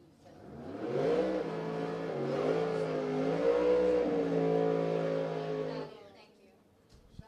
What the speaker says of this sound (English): There's a centrifugal supercharger hanging off the front of that 402 cubic inch Pontiac power plant.